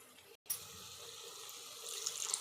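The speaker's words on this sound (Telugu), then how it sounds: "ఇప్పుడు మనం కొంచెం వాటర్ని వేసుకుందాం దీంట్లోకి" Water poured from a tap or jug into a pot of partly cooked chicken curry: a soft, steady pouring rush that swells slightly toward the end, quiet and close, with no talking.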